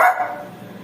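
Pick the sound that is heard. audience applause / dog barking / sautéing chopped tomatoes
dog barking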